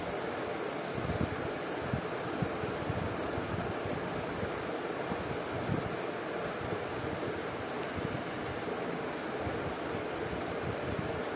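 Pumpkin seeds, melon seeds and yellow mustard seeds fry in a pan with a steady, dense sizzling hiss that runs unbroken throughout, with no voices.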